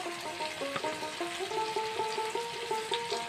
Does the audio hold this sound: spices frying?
yes